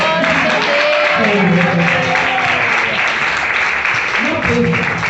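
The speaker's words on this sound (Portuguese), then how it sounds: "As palmas sobem em igreja" A church congregation claps along during a worship service. The clapping is loud and steady, and voices are calling and singing over it the whole time.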